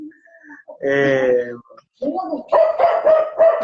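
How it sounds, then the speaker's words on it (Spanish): A small dog barks in a short run of quick, fairly close yaps near the end, after a longer whining or voiced tone, with people's voices around it. "No, el perrito o perrita."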